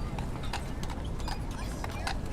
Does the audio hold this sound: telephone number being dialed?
no